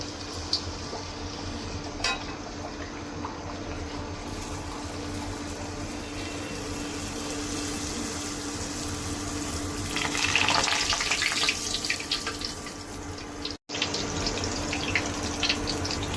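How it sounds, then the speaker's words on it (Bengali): Luchi, puffed Bengali flatbread, frying in hot oil in a home kitchen, giving a steady, close, continuous hiss and sizzle that swells briefly near the end, with no talking. "আম্মু এখন তেলে ছেড়ে দিচ্ছে"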